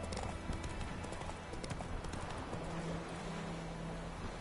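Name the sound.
horse Roach hooves clip-clopping, from video game The Witcher 3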